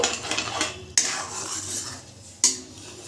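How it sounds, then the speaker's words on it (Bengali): Nolen jaggery being stirred into a patisapta pitha batter, with a continuous scraping and clinking of a metal spoon against a bowl and two sharp knocks of utensil on the rim, close and fairly loud, no talking. "গুড়টা দেওয়ার পর একটু ভালো করে মিশিয়ে নেব"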